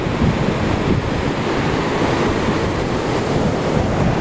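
A steady, loud roar of rushing water from a waterfall in a large, quiet forest near Mumbai fills the air without a break, dense and close.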